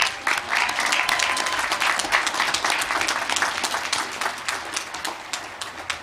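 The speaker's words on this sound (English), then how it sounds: "Please join me in applauding these graduates." A crowd at a university commencement ceremony applauds steadily for several seconds, many hands clapping in a dense, continuous patter that eases off slightly toward the end.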